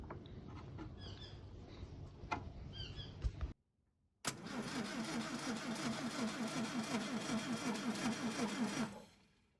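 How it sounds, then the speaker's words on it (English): The starter motor of a Triumph Roadster under restoration cranks the engine in a fast, rhythmic churning burst lasting several seconds, close and loud, following a brief pause of silence after earlier clicks and handling sounds. "we can test the starter motor out again"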